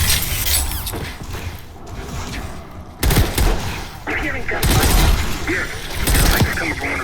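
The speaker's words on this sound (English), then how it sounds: "You hearing gunfire?" Bursts of rapid gunfire in the video game Call of Duty: Black Ops 6 crackle and rattle in uneven volleys, with a voice speaking between the shots.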